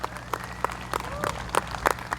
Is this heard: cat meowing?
no